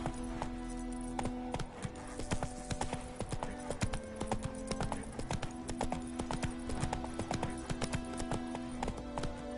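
Horse hooves clip-clop steadily at a walking pace in the open-world game Witcher 3, close and continuous, with a rhythmic clatter over background game ambience.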